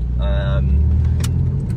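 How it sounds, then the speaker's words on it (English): A 2000 Porsche 911 Millennium Edition engine running while driving, a steady close low drone inside the cabin, with a voice briefly over it. "I prefer the engine note over music anyways"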